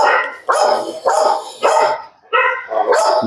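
A dog barks repeatedly and loudly nearby at a house in Madurai, several harsh barks in quick succession with a short gap before another burst.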